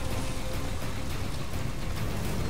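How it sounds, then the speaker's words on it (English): Steady rain in Metal Gear Solid V: The Phantom Pain, a dense, even hiss of rainfall on surfaces near a harbor, continuous and moderately loud with no voices. "Oh, it's starting to rain."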